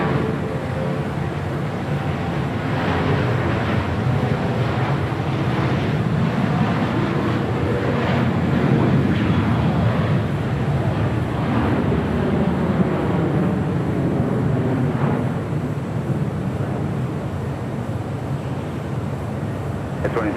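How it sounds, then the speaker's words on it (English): A JetBlue Airways Airbus A320 bound for Cancun takes off from runway 25 right at LAX, a steady, loud broadband jet roar that holds throughout, with voices faintly audible beneath it. "JetBlue Airways flight 1570 heading to Cancun, Mexico. A320, next departure on the south side at 25 right."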